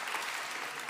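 A church congregation claps to welcome back a returning pastor at a worship service, a brief dense wash of many hands, steady and fairly close, with no voices.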